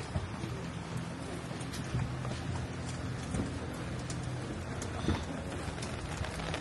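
Rain falls steadily in a continuous soft hiss, with scattered drops pattering on a nearby surface and fairly quiet overall.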